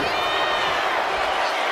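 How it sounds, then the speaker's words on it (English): A wrestling crowd roars steadily at an NXT WarGames match in a 2K wrestling video game, continuous cheering under a commentator's voice. "The crowd is fired up."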